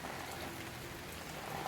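Steady rain falls outdoors in a rural Kerala home setting, a soft continuous hiss of drops on surfaces filling the whole moment at low, even level with no voices.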